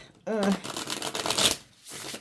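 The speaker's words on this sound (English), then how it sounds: "This deck is so big. It's hard for me to shuffle, but I'm going to go for it." Large tarot deck being riffled and shuffled by hand, a dense burst of papery card flutter lasting about a second, with a voice speaking over the start.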